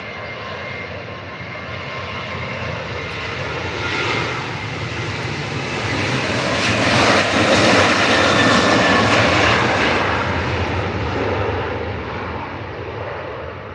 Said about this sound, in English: the Ryanair off to Carcassonne, Boeing 737-8AS, flight number RYR4SF, and it's straight off